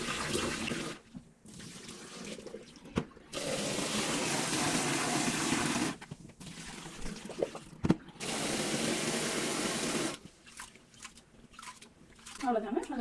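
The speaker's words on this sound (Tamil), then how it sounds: "இப்போ வந்து அரிசியை வந்து கொஞ்சம் அலசி எடுத்துக்கலாம்." Rice is rinsed in water for chicken biryani, with bursts of running and swishing water broken by short pauses and small handling clatters as a person talks over it.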